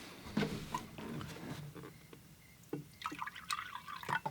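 Fresh water poured into the water container used for watercolor painting, a faint trickle and a few drips, soft and close, with a quieter stretch in the middle before the splashing picks up again.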